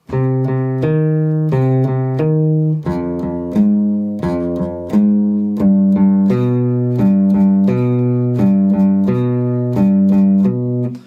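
A plucked guitar line repeats a short pattern of bass notes and higher notes in a steady rhythm, clear and close, with no talking.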